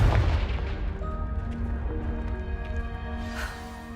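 A Confringo fire-blast spell bursts in Hogwarts Legacy, opening with a loud, booming impact that decays into a long ringing, tonal tail, with a smaller pop near the end.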